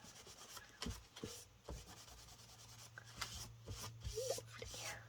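Dried glue stick residue being rubbed off a book page by hand, soft scratchy friction strokes in short irregular bursts, close and quiet, with faint speech in the background.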